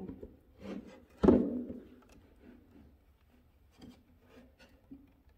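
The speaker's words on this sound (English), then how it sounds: "There's 2 notches back here that I'm going to slide these into." Wooden chair pieces, the seat and back, are slid into notches during assembly, giving a few soft scraping rubs and one sharper knock of wood, quiet and close.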